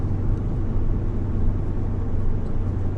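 Inside a Mercedes E55 while driving, a steady low engine and road rumble drones on without break, loud and close, with no talking.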